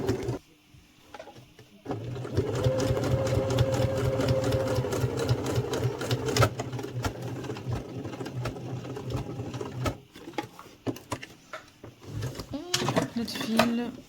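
A sewing machine stitches fabric for a lined zip pouch, running in a steady rapid whirr for several seconds, then pausing and giving short bursts, with quiet handling clicks around it.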